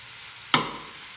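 Boiled chicken and peas hit a hot pan and are tossed together, making a sudden loud burst of sizzle that quickly fades into a softer fizz, with no voices.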